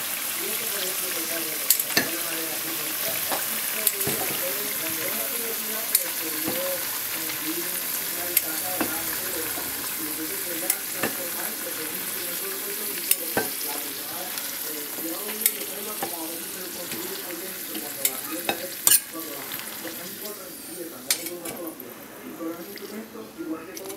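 Plantain slices fry in hot oil for tostones, a steady close sizzle with occasional clicks and knocks of utensils, while someone talks over it.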